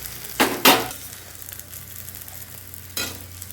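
Eggplant frying in hot oil for an egg and eggplant curry, a soft steady sizzle broken by a couple of sharp metallic clatters and a later scrape of utensil against the pan, close, no talking.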